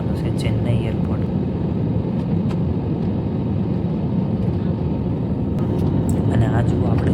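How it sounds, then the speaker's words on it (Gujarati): A passenger airplane landing at Chennai airport, heard from inside the cabin as a steady loud engine and airflow roar with rumble, without a break for the whole stretch. "અને હવે આપણું પ્લેન લેન્ડ થવાનું છે ચેન્નઈ એરપોર્ટ."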